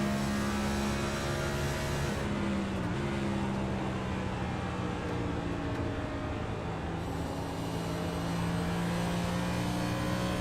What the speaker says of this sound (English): A downshift early into the corner, as smooth as you could possibly be on the gas.